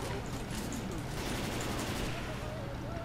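Dense, continuous gunfire from a Left 4 Dead 2 match, rapid shots overlapping in a steady barrage at even loudness throughout, with faint game sounds beneath.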